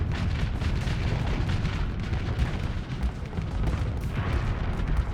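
Missiles and explosions in the space combat game Starsector boom and burst in quick succession, forming a loud, continuous barrage of blasts and rumbling impacts.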